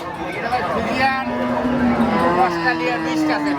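A large black Friesian-Australian cross cow moos in a long, low drawn-out call while people chatter nearby in the background at a cattle market.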